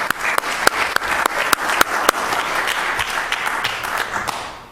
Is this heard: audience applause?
yes